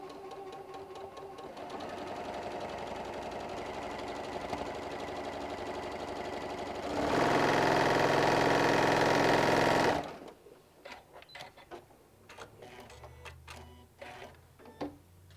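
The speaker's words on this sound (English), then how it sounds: "I'm just going to go ahead and sew this at 1/4 inch all the way down." A sewing machine runs a quarter-inch seam with a steady mechanical hum that grows louder and faster near the end, then stops and leaves scattered clicks and fabric handling sounds, with no speech.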